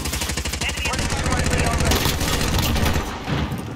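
Sustained rapid automatic gunfire from a gun in Call of Duty Modern Warfare, loud and close, a steady hammering stream of shots that briefly dips near the end.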